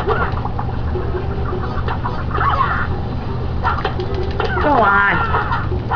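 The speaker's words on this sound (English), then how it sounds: "I need to get rid of these pesky birds" Birds squawk and cluck in the Nicktoons: Battle for Volcano Island video game. Scattered calls rise over a dense, steady game soundtrack, and a voice speaks briefly.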